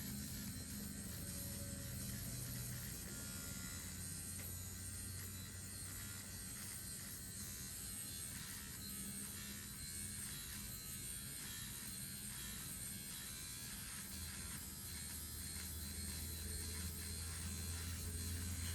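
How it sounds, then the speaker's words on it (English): An electric dermaplaning shaver gives a continuous, close mechanical buzz with a faint ratcheting texture for the whole stretch, steady in level and alone without speech. "Now with this shaver, when you're going straight down, it gets hairs"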